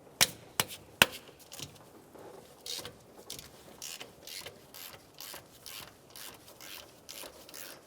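A ratchet with a 9/16 socket loosens exhaust manifold bolts on a 1992-1996 Ford F-150, giving three sharp clicks at the start and then a run of rapid, even ratcheting bursts, close and alone.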